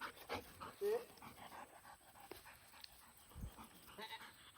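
A hunting dog pants during retriever training for dove and duck season, quick breathy puffs close by, mixed with a brief whimper and scattered handler commands spoken around it.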